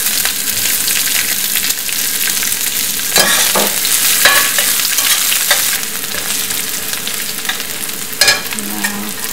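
Curry leaves and onion sizzling and frying in a hot pan for masala dosa, a loud steady crackle with occasional stirring scrapes.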